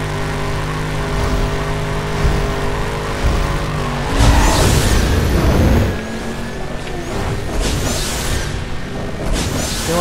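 A Ford Mustang Boss engine in Need for Speed World drag racing drones and revs, swelling louder with a burst of acceleration midway before settling back.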